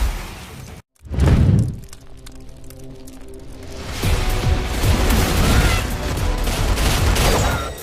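Dual pistols firing from a Gunslinger in the fantasy game Blade & Soul, a dense burst of loud shots and impacts after a sharp thump, layered over game effects and music.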